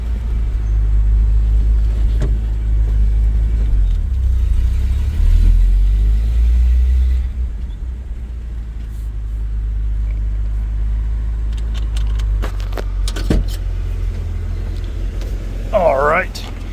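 Interior of a 1993 GMC Sonoma pickup truck on the road, a steady low engine and road rumble with faint suspension knocks and a few brief clicks, continuous throughout.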